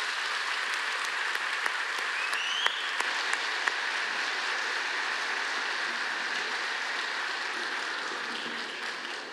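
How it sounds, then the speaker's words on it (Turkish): An audience at a solidarity night applauds steadily, a dense and even wash of clapping heard from a moderate distance, with no talk over it. "alkışlarınızla toplum bilimci, akademisyen Profesör Doktor Emre Kongar'ı buraya davet ediyorum"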